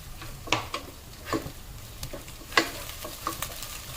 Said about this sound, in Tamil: இது போட்டு எவ்வளவு நிமிஷம் ஃப்ரை பண்ணணும்?